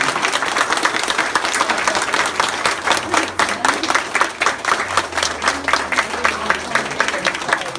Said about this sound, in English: let's stand right now and give her a big round of applause